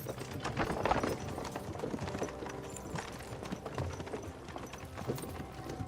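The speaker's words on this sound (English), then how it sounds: "don't you think maybe we could make the horses go a little faster?" Horse hooves clip-clop at a steady walking pace in the video game Kingdom Come Deliverance 2, with several horses moving together over a continuous background of ambient noise.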